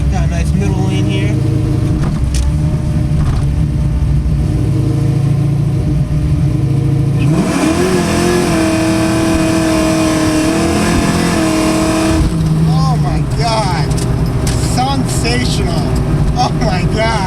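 A cammed 1988 Ford Foxbody Mustang, built, gets loud steady engine drone from inside the cabin, then rises in pitch as it accelerates hard for several seconds before easing back. Someone talks over the engine.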